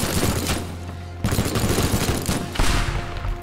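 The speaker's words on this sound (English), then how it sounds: "Oh yeah, the hunting rifle's cool." Hunting rifle fire in the game Teardown, three sharp loud reports spaced about a second apart, each with a broad crack and short decaying tail, close and with no talking.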